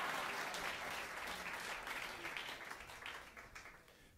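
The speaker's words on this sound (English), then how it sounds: "So thank you very much for that applause" An audience applauding steadily, dense clapping that fades gradually toward the end.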